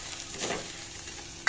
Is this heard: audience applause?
no